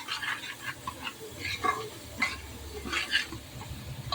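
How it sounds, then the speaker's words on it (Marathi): Garlic and grated coconut sautéed in a pan, a steady low sizzle under repeated scraping stirs of a spatula, with scattered sharper clinks and scrapes close by throughout. "दोन मिनिट अशा पद्धतीने मी लसूण खोबरं परतून घेतले"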